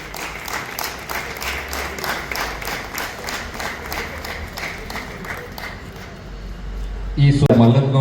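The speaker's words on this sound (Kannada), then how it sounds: "ಎಲ್ಲ ಗಣ್ಯರಿಗೆ ಚಪ್ಪಾಳೆ ಮುಖಾಂತರ ಗೌರವ ಸಲ್ಲಿಸಬೇಕು ಅಂತ ಕೇಳಿಕೊಳ್ತೇವೆ" An audience at a Kannada Rajyotsava ceremony at Karnataka Samskrit University in Bengaluru claps steadily in rhythmic applause, with a speaker's voice rising loudly over it near the end.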